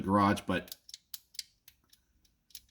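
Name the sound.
pistol trigger pull grinding on the magazine disconnect safety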